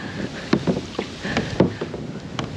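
Wind gusts buffet a kayak and its paddler on a secluded creek, a steady rushing roar broken by short knocks and splashes of paddle strokes, close and moderately loud, with no voices.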